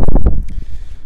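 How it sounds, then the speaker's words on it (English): Wind buffeting an external microphone outdoors on a muddy walk, heavy low rumbling gusts that are loud at first, then settle into a steadier rough blustering for about a second. "It's a bit windy. I'm just using my external mic."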